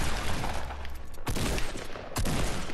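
Rapid bursts of gunfire from a Fortnite battle royale match, loud and close, with sharp shots cracking through a sustained volley of firing.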